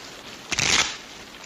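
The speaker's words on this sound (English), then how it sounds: "Let us shuffle." Playing cards being shuffled at a soldiers' card game, a single brief riffle that rises and fades within about half a second, fairly close against a quiet background.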